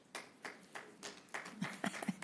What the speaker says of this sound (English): You got an applause.